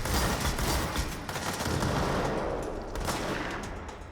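Gunfire and a grenade in the action game Control, a dense rattle of shots and blasts running steadily throughout at moderate loudness.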